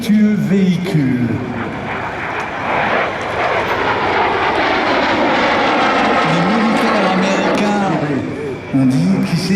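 A Lockheed T-33 Shooting Star jet roars past at an air show, a loud, broad rushing engine noise that swells and shifts in pitch as it passes, with a low droning hum heard at the start and end.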